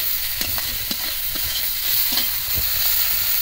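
Prawns frying in a pan, with a loud, continuous sizzle broken by repeated close scraping taps of a spatula stirring them.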